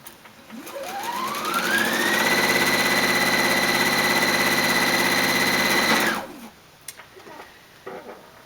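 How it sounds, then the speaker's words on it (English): A sewing machine stitches dark and light quilt triangle pairs together, whirring up to a steady, fast hum for several seconds before stopping abruptly, followed by a few faint clicks. "I will sew 2 pairs together, matching my dark triangle and my light triangle"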